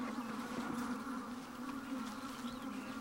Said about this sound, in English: It's playing the sound of swarming, angry honeybees.